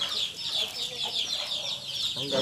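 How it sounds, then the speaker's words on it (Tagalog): Chickens cluck steadily nearby in a busy, overlapping chorus of short, rapid calls, with a faint voice in the background. "Hanggat andyan yung mga manok ni Otol, hindi ako malilipasan ng gutom dito guys"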